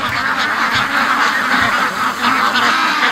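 Ducks and geese call together in a loud, steady flock chorus of quacks and honks.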